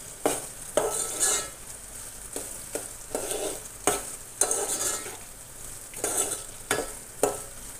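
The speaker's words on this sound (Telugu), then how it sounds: "చూడండి ఫ్రెండ్స్, ఇవి బాగా వేగుతున్నాయి." Onions frying in a pan on the stove for a stir-fried ivy gourd dish, with a steady sizzle broken by repeated rhythmic stirring scrapes and light clinks of the spoon, close and clear.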